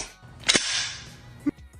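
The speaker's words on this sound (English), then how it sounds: "look what just happened. The bolt goes forward. The weapon has fired." An unloaded firearm is knocked hard, and its bolt slams forward with a sharp, dry snap, followed about a second later by a shorter, fainter metallic click.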